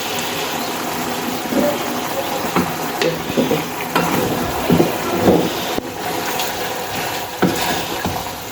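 Chalta (elephant apple) pickle stirred in jaggery in a pan, with repeated scraping and stirring strokes over a bubbling, sizzling bed of sound, moderately loud and close.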